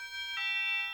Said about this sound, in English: So I can use bell,